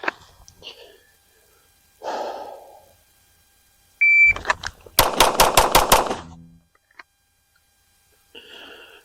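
Pistol bill drill on a shot timer: a sharp electronic start beep, then six rapid, evenly spaced loud handgun shots in about two seconds, with a few brief faint sounds before and after.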